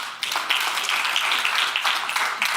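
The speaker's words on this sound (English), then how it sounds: "Let's give them a round of applause." An audience applauds at a keynote event, a continuous wash of many hands clapping at fairly even loudness with occasional louder claps standing out, heard alone without talk.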